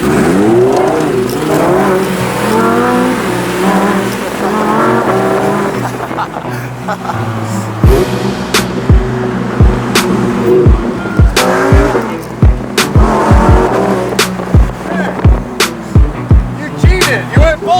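A car and a truck launch side by side from a standstill, engines revving loudly with rising, wavering tones. A run of sharp, rhythmic thumps and knocks follows close by.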